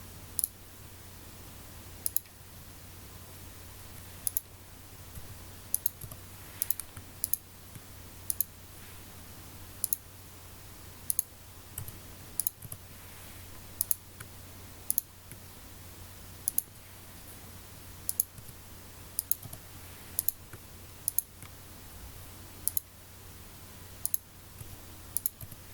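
A Cricut cutting machine slices 12 by 12 cardstock for a large sign, giving steady light clicks and short ticks at a fairly even rhythm over a constant low hum, with no talking.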